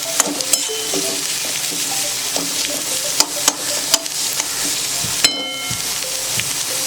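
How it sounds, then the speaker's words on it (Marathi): Sliced onion fries in a spoonful of hot oil for a Malvani coconut-onion masala, a steady close sizzle with a spatula stirring and scraping the pan in irregular clicks. "आता आपण त्याला व्यवस्थित असं मिक्स करून घेऊया तेलामध्ये."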